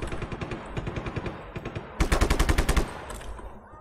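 Automatic gunfire in the video game Just Cause 3, rapid bursts of shots in quick rhythmic succession, loud and close, with an especially dense, sharp volley in the middle.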